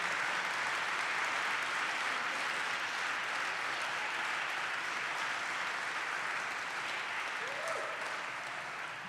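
An audience at a Massachusetts 250 campaign announcement breaks into sustained applause, a dense, even wash of clapping that holds steady for about nine seconds before easing slightly at the end.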